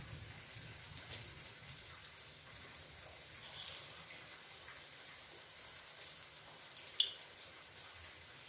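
Kande ki sabji, an onion dish, frying in a hot kadhai: a soft, steady sizzle with faint crackles and a couple of small pops near the end, quiet and continuous throughout.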